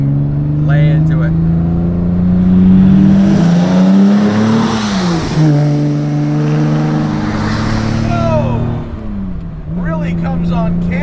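A modified 1960 Aston Martin DB4 Series II accelerates hard from low revs on an open road, its engine note climbing and falling through gears, loud and close with people talking over it.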